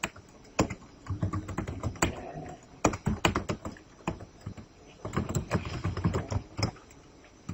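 Data being entered on a computer keyboard makes rapid, irregular clacking keystrokes, close and distinct, in bursts with short pauses.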